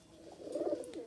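A pigeon coos softly once in a pigeon video game, a faint low rolling call with no talk over it.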